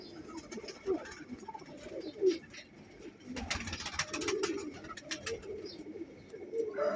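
Pigeons coo in low, throaty bursts, several birds calling near and overlapping, with some fluttering and shuffling between calls.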